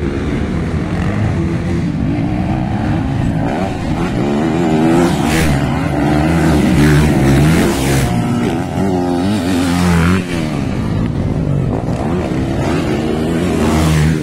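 Loud, continuous engine roar with rising and falling revs from racing motorcycles passing close during an intermediate final race, sustained throughout without pause.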